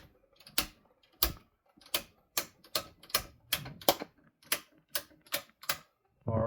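An Anker Solix F3800 home backup transfer switch clicks over and over, about a dozen sharp, evenly spaced clicks in quick succession, fairly close, with a louder rising rumble at the very end.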